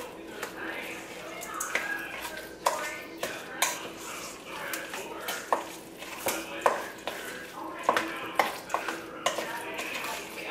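Meatloaf ingredients being mixed by hand in a bowl, with repeated squelching, tapping and scraping in an uneven rhythm, close and fairly quiet, with a voice speaking softly underneath.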